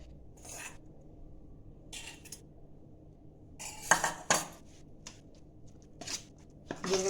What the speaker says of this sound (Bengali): সমস্ত কিছু ভালো করে মিলিয়ে নিয়েছি